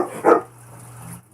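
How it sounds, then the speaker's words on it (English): A single loud, sharp dog bark bursts out once against a quiet indoor background, followed by near silence. "That is my dog, at least one of them, who's very loud"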